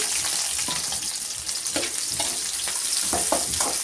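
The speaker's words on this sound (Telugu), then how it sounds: "ఆయిల్ కాగింది. నేను 3 పచ్చిమిరపకాయలు వేస్తున్నాను." Three green chillies and onions dropped into hot oil, crackling in a continuous loud sizzle with a few stirring scrapes over the short stretch.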